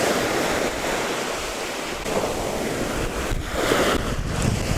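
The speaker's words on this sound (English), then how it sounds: "the wave receding back into the ocean, leaving a trail" Surf on a beach washing up and drawing back over the sand, a steady broadband rush with mild wind noise on the microphone and no voices, swelling slightly toward the end.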